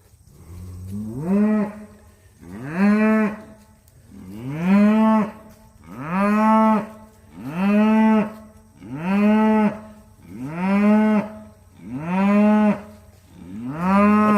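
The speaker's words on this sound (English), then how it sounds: "That's like the loudest cow of all time." A cow that has just calved during fall calving gives eight long, loud bellowing moos in a steady repeating rhythm, each rising and falling. She is close by and no one talks.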